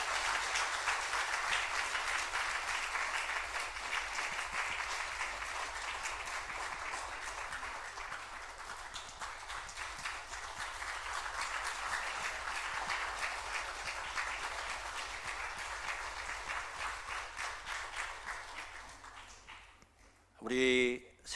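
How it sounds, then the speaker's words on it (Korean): A Sunday church service congregation gives long, sustained applause to welcome newcomers, a thick wash of many hands clapping for about twenty seconds before fading, with a voice speaking briefly at the close. "우리 박수로 환영하겠습니다"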